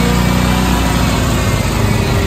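A 2020 Harley-Davidson Iron 1200 motorcycle with an air-cooled 1200cc Evolution engine runs steadily, a loud, close, unbroken engine drone with no pauses.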